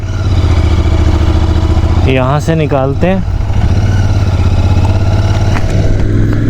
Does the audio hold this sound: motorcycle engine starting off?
yes